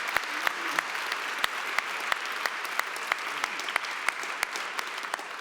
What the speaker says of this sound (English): We should give them another round of applause for that mind-bending performance.